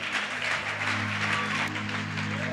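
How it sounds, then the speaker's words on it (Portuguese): Congregation applauding during a Tuesday church service, a steady wash of clapping from a gathered audience heard at a moderate distance over a low sustained hum, with no voices standing out. "Pode aplaudir."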